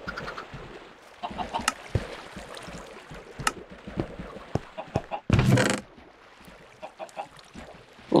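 Chickens cluck in the Minecraft video game, with repeated short clucks over busy game sounds and a loud burst near the end.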